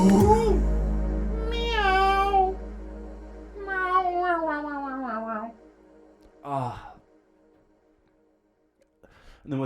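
A human voice imitates a cat, drawing out several wavering, nasal meows in a row with sighs and breathy gaps in between, loud and close to the listener.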